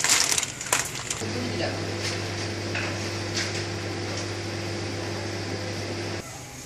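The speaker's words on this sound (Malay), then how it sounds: "Kita masuk microwave 2 minit sahaja." A microwave oven heating cheese-topped fried bananas: a brief clatter as the door closes, then a steady droning hum for about five seconds that cuts off abruptly.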